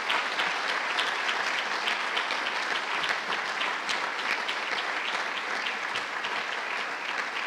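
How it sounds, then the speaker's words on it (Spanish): An audience claps in solidarity at a university award ceremony for food and wine tourism, dense sustained applause filling the hall at an even level without a break, no speech over it. "Hagámosle llegar nuestra solidaridad a través de un aplauso."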